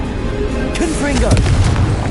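Casting the Confringo explosion spell in the video game Hogwarts Legacy: a shouted voice gives way to a deep, rumbling boom that swells and holds loudly to the end.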